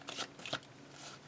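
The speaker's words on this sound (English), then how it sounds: "I'm just going to shuffle the 7 cups" A deck of tarot cards is shuffled by hand, giving two quick riffling bursts and then a softer rustle. The sound is close and quiet, with no speech.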